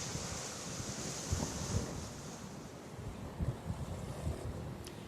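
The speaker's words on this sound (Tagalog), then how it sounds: "medyo may kalakasan din ang bugso ng hangin" Strong gusty wind from a typhoon in Northern Cebu roars and buffets continuously, with rushing surf-like noise and occasional louder gusts thumping against the microphone.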